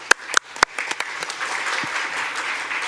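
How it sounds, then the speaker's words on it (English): Applause at an international parliamentary research seminar opens with a few sharp, close claps, then settles into a steady, moderate round of clapping from the audience. "One applause,"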